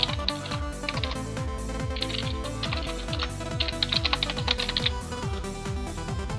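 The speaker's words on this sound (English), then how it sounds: "But I can just type in my username, email address, which I'll just blur out later." Typing a username and email on a computer keyboard, rapid clusters of light key clicks over a louder rhythmic background tone pattern, with the keystrokes bunched into short bursts.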